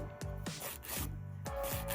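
Press-on nails being filed flat, quick rhythmic rasping strokes, close and fairly quiet, a few back-and-forth passes in a short burst.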